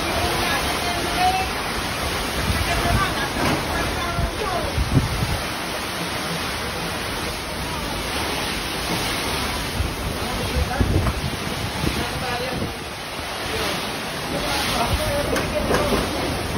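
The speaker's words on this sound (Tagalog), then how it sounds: "nagtali din ng bubong kahit sobrang lakas ng hangin at ulan" Typhoon Kristine brings strong wind and heavy rain, heard as a dense, continuous roar and hiss of rain and gusts that stays loud and unbroken for the whole stretch.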